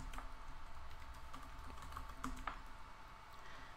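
Quiet, rapid keystrokes on a computer keyboard as a password is entered, a short irregular burst of soft clicks close by with no talking.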